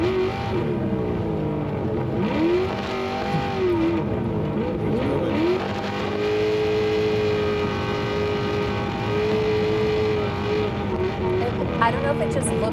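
A Baja off-road race vehicle at the SCORE Baja 500, its engine held at high RPM near redline with a steady drone and wavering pitch shifts as it revs, heard close and continuously under someone talking.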